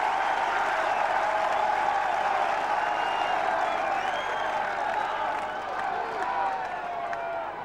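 Big stadium crowd roars and applauds steadily during a 2002 AFL match between Fremantle and Essendon, a dense, sustained wash of cheering and clapping with no break.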